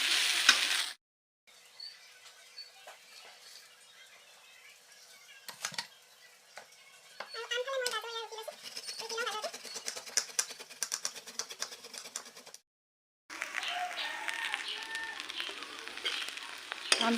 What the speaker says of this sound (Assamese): সেইটো কাৰণে এতিয়া ভাজি আছোঁ আৰু।